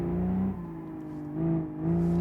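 A simulated car engine in the BeamNG driving game drones with a diesel-like tone, rising and falling in steady revs under throttle changes, constant and close with no talking.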